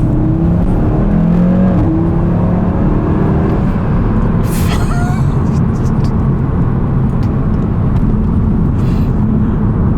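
A 2020 Audi RS3 Quattro engine rises in pitch as it accelerates, loud and close, then settles into a steady roar with a brief whoosh midway.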